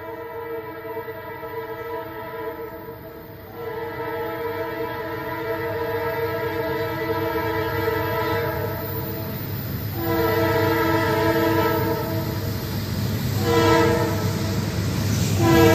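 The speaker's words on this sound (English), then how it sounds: "I was exceptionally glad to see this locomotive lead this empty ethanol train" A locomotive leads an empty ethanol train past, its loud multi-chime horn sounding in several long blasts over a steady rumble of rolling freight cars, growing louder toward the end.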